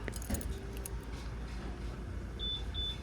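Original and duplicate Yamaha NMAX V3 remote keys jangle briefly up close, followed by a few short electronic beeps.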